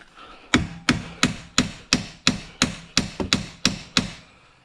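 Sharp metal hammer blows strike the front strut of a Mazda 3 during suspension removal, about eleven loud, close, evenly spaced hits, each ringing briefly.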